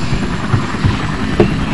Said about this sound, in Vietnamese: Đây là trực thăng của quân đội Mỹ